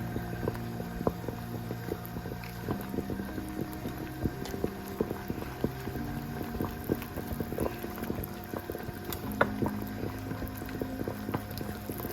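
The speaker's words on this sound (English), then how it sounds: "water is boiling" Water boils steadily in a pot while homemade chocolates are being made, giving a continuous close bubbling hiss dotted with small pops and no voices.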